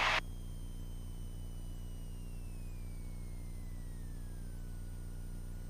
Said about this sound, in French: Ralenti est stable à 700 tours minute.